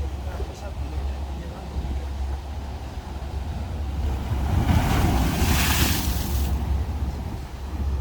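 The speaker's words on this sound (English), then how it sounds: "I told you about the waves. Nearly come over the wall" Ocean waves surge and break against a seafront wall at Las Americas, Tenerife, a broad roaring wash that swells louder midway under steady wind noise, with faint voices in the background.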